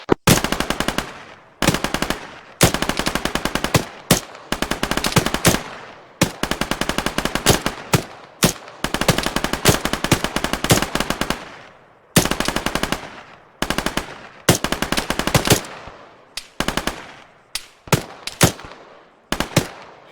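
Loud, close bursts of machine gun fire in rapid rhythmic volleys, separated by brief pauses and repeating throughout.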